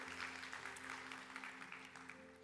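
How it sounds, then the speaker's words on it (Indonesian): A church congregation breaks into scattered applause during a sermon, a faint, continuous patter of many hands with a low steady hum beneath it. "Kasih tepuk tangan, yang mau kasih tepuk tangan aja."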